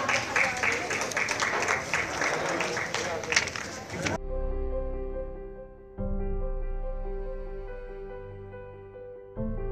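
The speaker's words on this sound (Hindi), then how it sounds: "जोरदार तालियां यूं ही बजती रहनी चाहिए" Audience applause and clapping at an honoring ceremony, a dense crowd sound for about four seconds that then gives way to steady music.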